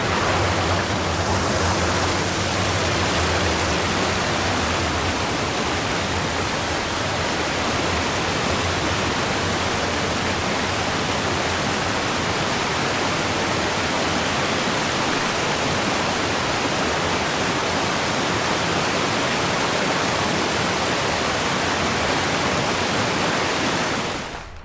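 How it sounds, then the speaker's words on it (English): Creeks flowing down and meeting at a trail intersection, a steady, broad rushing of water that stays constant and fairly loud throughout with no voices. "It's at the intersection of a couple of creeks that are coming down."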